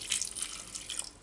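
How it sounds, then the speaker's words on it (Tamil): Half a tumbler of water poured into a pan of tomatoes and onion, a short splashing gush close by, brief and alone with no voices. "ஒரு அரை டம்ளர் தண்ணி ஊற்றிக்கலாம்"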